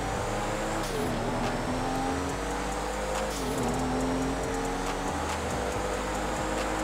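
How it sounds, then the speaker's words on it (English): Car engines in Grand Theft Auto V roleplay, heard from a first-person view: a steady, loud engine drone with dips and rises in pitch as the car shifts and revs, running continuously with no talk. "These cars actually sound good."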